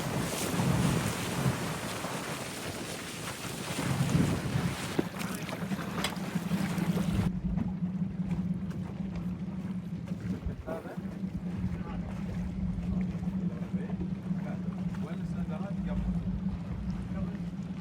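Fishing boat motoring far out at sea, a steady low engine hum under gusty wind and water noise, with people talking aboard.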